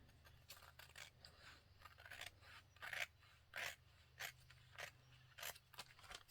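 Scissors trimming a refolded pharmacy paper bag journal: faint, close snips and papery rasps that repeat at an uneven rhythm over a low steady hum.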